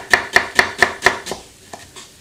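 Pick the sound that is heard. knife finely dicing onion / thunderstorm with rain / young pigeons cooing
knife finely dicing onion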